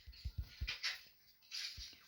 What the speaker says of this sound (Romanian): vreau să luăm câine cu noi.